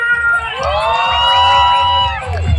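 Wedding guests cheer and shout loudly at a reception, a close burst of overlapping high-pitched whoops and yells with some clapping underneath, lasting a couple of seconds.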